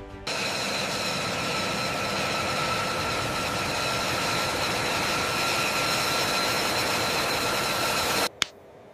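A 170,000-pound B-2 Spirit stealth bomber taxis toward the runway for first flight testing, its jet engines giving a loud, steady, broadband roar with a whining tone, cut off abruptly near the end.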